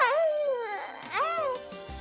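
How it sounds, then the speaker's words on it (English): A baby coos in two drawn-out, sliding vocal tones, clear and close, with a brief pause between them. "cooing,"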